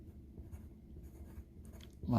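Pencil scratches across paper while sketching, a soft, close scraping of strokes that is quiet and steady, alone without talk.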